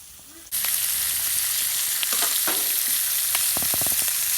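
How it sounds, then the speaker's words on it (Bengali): Loud continuous sizzling of rohu fish frying in a pan in a Bangladeshi village kitchen, with occasional soft clinks and scraping from stirring. "মোরা মাছ ভাজতেছি"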